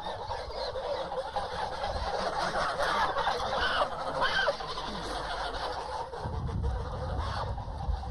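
Domestic geese on a poultry farm raise a continuous, busy flock clamour of honks and calls, steady and moderately loud throughout with no talking.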